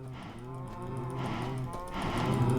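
A cow in the video game Hypixel Skyblock lets out a long, steady moo that swells in loudness over a couple of seconds, heard on its own without talk.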